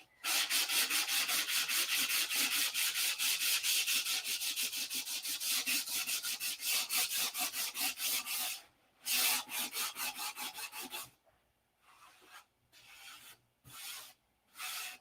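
A surface on a P-47 aircraft being sanded by hand, steady rapid back-and-forth rasping strokes close and loud, then slowing into a few separated passes with pauses.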